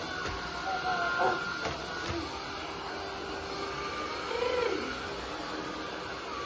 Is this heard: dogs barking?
no